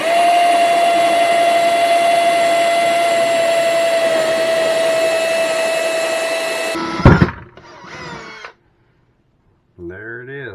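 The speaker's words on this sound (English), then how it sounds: "So let's go ahead and get this hole drilled and then get on with this." A power drill bores a hole through wood for an RV faucet, a loud, steady whine running for about seven seconds before cutting off, followed by brief handling clatter and a short voice at the end.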